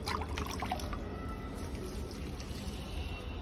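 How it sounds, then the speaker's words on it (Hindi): Water is poured onto parched potted plants, giving a soft, continuous trickling wash with a few brighter splashes early on, fairly quiet and steady, with no one speaking. "पानी डालना बहुत ज़रूरी है"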